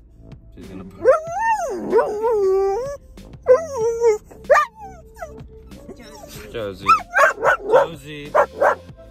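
A dog whines, moans and yips in rising wails, then breaks into a run of short barks near the end, all close and loud with a person speaking briefly in between.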